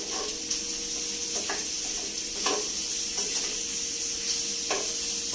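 Liver and gizzard adobo sizzles steadily in a pan while being stirred. Soft scraping and occasional utensil knocks rise over a constant close hiss of frying.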